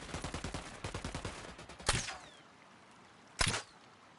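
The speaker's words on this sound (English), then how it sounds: "Opening fire." Ghost Recon Wildlands gunfire opens with a rapid burst of automatic shots lasting over a second. Two separate loud single cracks follow, each with a brief echo, and no speech is heard.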